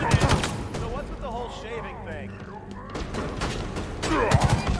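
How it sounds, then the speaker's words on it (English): Bursts of shotgun and other gunfire in the video game Halo Infinite, several loud blasts near the start and end with battle noise between, while people talk over the shooting. "he's got a shotgun"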